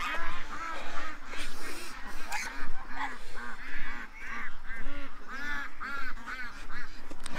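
A flock of ducks honks and quacks continuously, close and fairly loud, with many overlapping calls and no talk.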